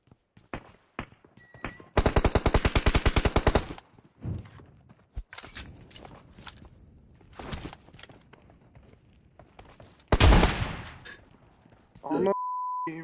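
Machine gun fire in a video game comes as a rapid, loud burst of shots, followed by scattered single bangs, footsteps and a beep, with a heavy blast near the end.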